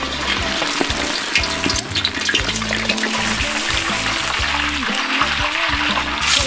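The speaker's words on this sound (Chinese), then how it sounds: "牛蛙过油。" Pieces of bullfrog coated in egg white frying in hot oil in a wok, a loud continuous sizzle and crackle heard close, with no talk.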